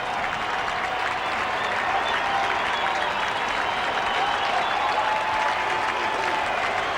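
Baseball stadium crowd at a 1993 Rockies–Mets game at New York, a steady, loud wash of cheering and applause with fans on their feet, sustained without a break.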